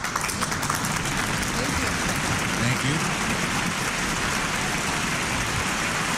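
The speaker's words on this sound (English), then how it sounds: "They're still there clapping right now." Live applause from a stadium crowd at a home run derby comes through as a dense, hissing wash of clapping. It continues steadily under people talking.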